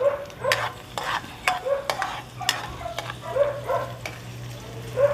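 Garlic frying in a pan while being stirred, a close sizzle broken by repeated sharp scraping and clanking strokes of the utensil roughly twice a second, over a faint low hum, with no talk.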